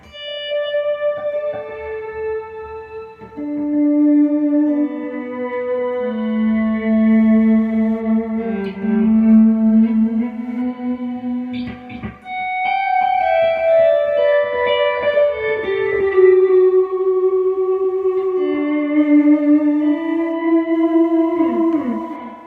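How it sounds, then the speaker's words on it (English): Layered guitar notes through a Strymon shimmer reverb pedal swell slowly into a shimmering, octave-bright reverb wash, chords blooming and sustaining continuously with no talking. "I usually just use it for, you know, a little bit of reverb, but like that shimmer stuff is really cool."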